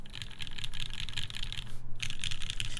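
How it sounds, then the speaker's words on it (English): A Linworks Whale mechanical keyboard with Cherry MX Black switches on an aluminum plate is typed on quickly and close up, giving a dense stream of clacks with one brief pause and no voices. "I do like the sound of cherry mix black with aluminum."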